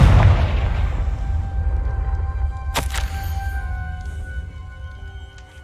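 A Confringo blasting curse detonates in the Hogwarts Legacy video game, a deep booming explosion with a sharp crack partway through, then a low rumble and ringing tones that slowly fade.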